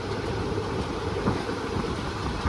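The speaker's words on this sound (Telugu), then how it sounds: "చూడండి ఒకసారి ఎంత స్పీడ్లో పోతుందో ట్రైన్" A train runs at high speed between Hyderabad and Nizamabad, heard as a continuous close rumble with faint rhythmic clatter and wind noise, steady and without talk.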